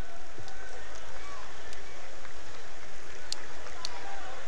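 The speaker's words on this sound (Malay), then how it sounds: "hujan yang turun sejak petang" Steady rain pours down on a football match between Johor and Kelantan, a dense, continuous hiss filling the stadium, with a commentator talking and a crowd murmuring under it.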